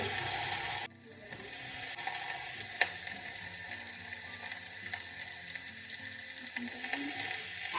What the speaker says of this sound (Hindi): अब मैं इसमें डालूंगी थोड़ा सा पानी।